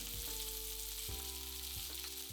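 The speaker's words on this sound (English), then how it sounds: "Once the pan is heated, add chicken wings facing skin side down." Chicken wings frying skin side down in a heated pan over medium heat for Japanese soup curry, giving a steady, even sizzle throughout with a low background hum and a few faint thumps.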